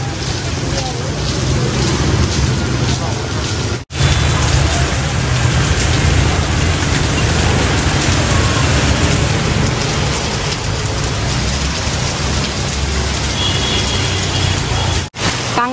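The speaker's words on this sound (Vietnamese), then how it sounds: "Nên là mưa đây." Steady, heavy rain pouring down outdoors in Hanoi on an overcast afternoon, a dense continuous hiss with a low rumble underneath, loud and unbroken apart from two brief cuts.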